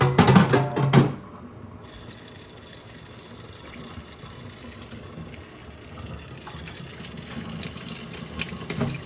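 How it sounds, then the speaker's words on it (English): Cold tap water runs steadily into a sink while beef is rinsed, with a brief louder splash and clatter at the start before settling into a continuous even stream. "we're gonna just rinse this with cold water to clean off"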